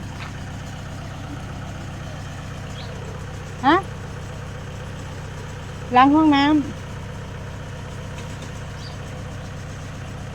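A tractor engine idles steadily throughout on a farm, chugging evenly, with a couple of brief voices speaking Thai over it.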